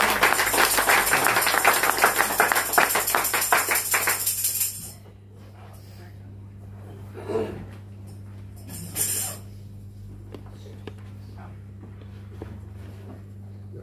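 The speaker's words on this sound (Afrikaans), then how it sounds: "Wie van julle wil vir die Here aan die klap gee vanmôre?" A crowd claps rapidly and steadily for several seconds, then the clapping stops, leaving a low hum with a couple of faint bumps.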